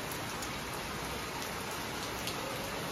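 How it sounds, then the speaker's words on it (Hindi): Heavy rain pours down steadily in a broadband hiss with scattered drop impacts, loud and constant throughout, with no talk over it. "बहुत तेज़ वाली बारिश आ गई है"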